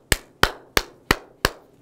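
Five sharp, evenly spaced hand claps ring out alone, close and loud, during a Korean history lecture.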